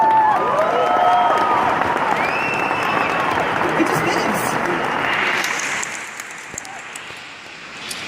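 A large audience at the Web Summit 2016 entrepreneur talk breaks into dense, sustained applause that slowly fades, with a voice speaking briefly over it.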